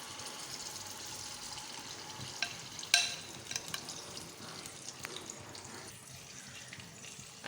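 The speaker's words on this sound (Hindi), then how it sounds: "ये देखें अब हम कलेजी को अच्छे से फ्राई करेंगे" Marinated liver (kaleji) frying in hot oil, a fairly quiet continuous sizzle with occasional small pops and one brighter clink, heard alone without speech.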